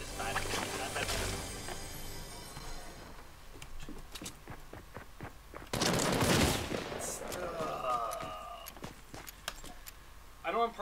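Gunfire in the game Fortnite: rapid sharp shots and bursts fired in clusters, near and loud, with a heavier blast midway, while a player talks over the action.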